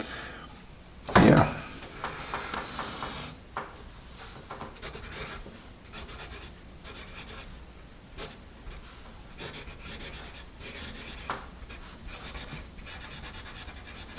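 A Dixon Style Fashion pencil scratches across paper in a run of short, rhythmic strokes, with a louder knock near the start and a faint voice now and then under the scratching.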